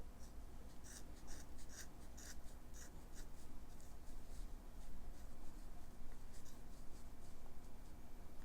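Quiet, crisp snips of scissors trimming doll hair, a steady series of short cuts over a faint background hiss.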